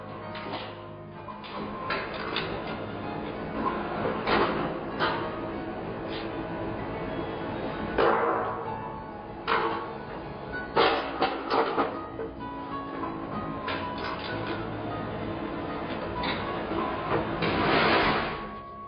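An automatic sheet-metal folding machine works steadily with its backgauge moving, giving a continuous mechanical hum broken by several sharp clacks and whirring bursts as it positions and bends the metal. No voices.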